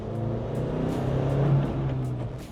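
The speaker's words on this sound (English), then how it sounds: "The car makes quite a lovely noise as well, and that's thanks to the stainless steel performance exhaust" Classic Land Rover Defender rebuilt by Twisted and fitted with a stainless steel performance exhaust, giving a steady low engine drone that swells slightly mid-clip, close and continuous with no talk.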